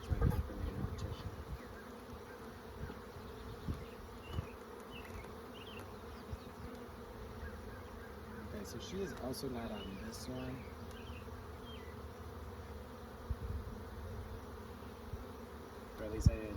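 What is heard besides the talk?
honey bees buzzing at the hive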